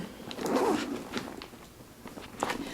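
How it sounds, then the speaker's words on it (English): A purse's zippered pocket is drawn open in a short scratchy run near the mic, followed by a few faint rustles and clicks of handling. "we have the zippered pocket there. Let me go ahead and open it."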